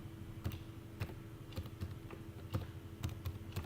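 Quiet keystrokes on a computer keyboard tap out a short word in an irregular rhythm, roughly a dozen soft clicks over a few seconds, close up and with no speech.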